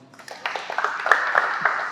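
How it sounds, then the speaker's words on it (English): Scattered audience applause at a product design workshop, a light patter of claps building and continuing steadily from a small crowd in a room. "You can clap if you want to."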